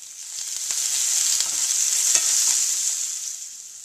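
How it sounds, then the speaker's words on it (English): Shrimp sear in a hot pan after being flipped, giving a steady, fairly loud sizzle with light crackles and a few spatters throughout, no voices. "Now flip the shrimp and cook for another 30 seconds on the other side."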